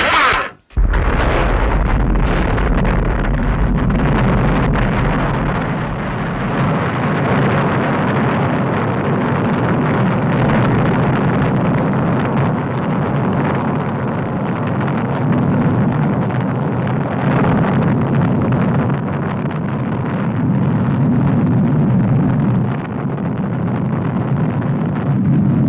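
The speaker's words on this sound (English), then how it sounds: "Braun's rocket has been launched" A von Braun rocket lifts off in a 1960 launch, engines firing with a sudden loud blast and then a continuous, powerful rumbling roar that persists at steady strength throughout, with no speech.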